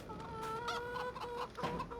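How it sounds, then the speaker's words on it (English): Chickens clucking on a farm in Farming Simulator 22, a close cluster of repeated clucks and short calls over low background noise. "I can hear the chickens."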